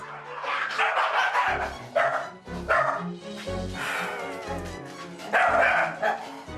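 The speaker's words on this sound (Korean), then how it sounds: "바로 그때 엄마 코기를 노려보더니 이내 공격하기 시작하는 딸 촐랑이" A young Welsh Corgi barks and yips while attacking its mother, with sharp, loud bursts of barking repeating at close range over a busy, noisy indoor background.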